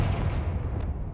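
A blast from the Confringo fire spell in Hogwarts Legacy: a loud, close burst of booming, crackling noise that sustains for about a second with no speech over it.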